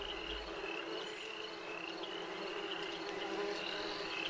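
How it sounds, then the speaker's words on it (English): Swarming insects buzz like a dense hive of bees in a video game, a steady, continuous drone with a high whine that holds at an even loudness throughout, without any talking. "I thought they sounded more like bees"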